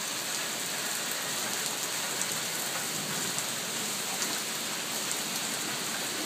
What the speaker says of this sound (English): Moderate rain, nothing really heavy.